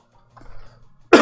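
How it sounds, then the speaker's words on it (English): A person coughs once, a short harsh burst near the mic at the end, preceded by faint quiet room sounds. "do apologize for my coughing, I can't help it."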